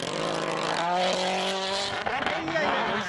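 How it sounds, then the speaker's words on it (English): A rally car running wide through a snowy corner on a Swedish special stage, its engine note climbing steadily as it powers out, loud and close with a brief tonal squeal near the end, while a commentator talks over it. "He's run really wide there and just having to power the car out"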